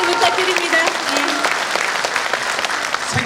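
Talk show studio audience applauding steadily throughout, a dense continuous clatter of many hands with faint voices mixed in.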